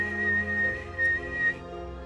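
A voice imitates a loud signal whistle, a sustained high tone held in several long blasts over a musical background.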